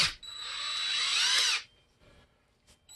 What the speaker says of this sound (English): we're just going to drill these little tabs out that are broken